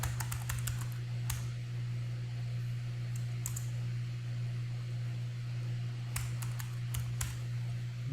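Typing on a computer keyboard while creating a tag for a security group in a cloud console: scattered clusters of soft, quick key clicks, quiet against a steady electrical hum.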